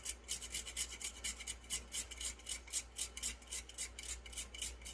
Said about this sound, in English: now I'm just going to grind some of this nutmeg in here